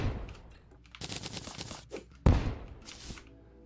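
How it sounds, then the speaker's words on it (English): Fireworks crackle and pop in rapid bursts in the game Terraria, a fast rattling series of bangs with one louder thump partway through, heard without talk. "All these fireworks."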